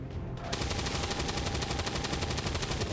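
Rapid automatic gunfire in XCOM 2 bursts in after a brief quiet start, a loud, fast, evenly spaced stream of shots that rattles on without a break to the end.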